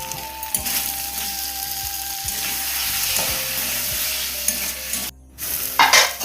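Ginger-garlic paste and spices with chilli powder, turmeric, salt and sugar being sautéed in a pan for a Bengali fish curry, a steady close sizzle with scraping stir strokes and a brief pause near the end.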